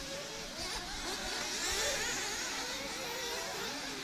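Several 1/8th-scale off-road RC race cars at the EFRA Euros buzz around the track, a high-pitched whining nitro engine drone that rises and falls as they pass, steady and mid-distance with no talk.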